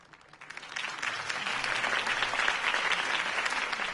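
Applause from a crowd in the video game Batman: The Telltale Series rises quickly from a faint start and holds as a dense, steady clatter of many hands clapping.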